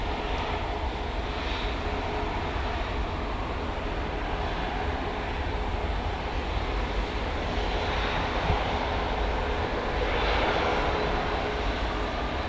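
An airliner takes off from runway 18 Left at DFW Airport at night, its engines producing a loud, continuous broadband roar that holds steady for the whole stretch, with no talk over it.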